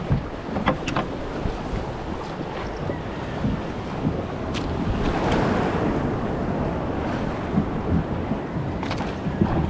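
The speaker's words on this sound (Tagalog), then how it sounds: "Laki na alon!" Rough ocean waves slosh and slap against a small fishing boat amid constant wind buffeting the microphone, loud and close, with occasional knocks.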